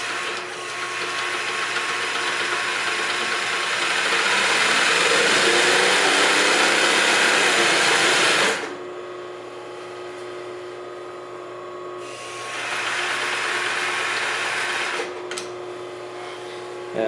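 Consew 3302 industrial double needle feed, four-thread chainstitch sewing machine running at speed, a loud steady mechanical whir that drops off, then resumes for a few seconds before stopping.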